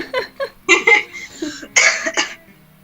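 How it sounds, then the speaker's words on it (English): A person coughs in several short, harsh bursts, grouped in two clusters a little apart, loud and close with no talking in between. "Sorry, I coughed."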